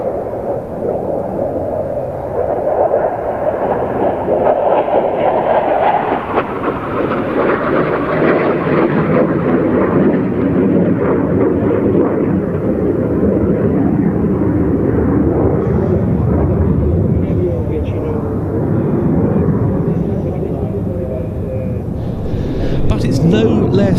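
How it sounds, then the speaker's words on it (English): Saab JAS-39C Gripen fighter with a single Volvo Aero RM12 turbofan at an air show, a sustained loud jet roar rising and shifting as it passes, with a voice talking over it. "In the case of this JAS-39C model, that means a single Volvo Aero RM12 turbofan."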